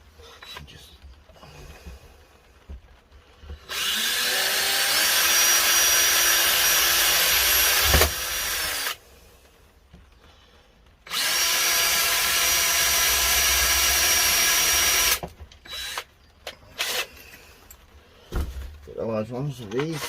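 A power drill runs while an LED adjustable grow light is being built, in two long, loud, close bursts of steady whirring separated by quieter handling clatter and a few short knocks.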